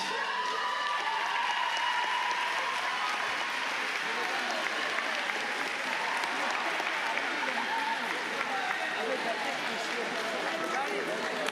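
Sustained applause from an audience at a 2024 French eloquence finale after a contestant's performance, steady and dense throughout, with some voices mixed into the crowd noise.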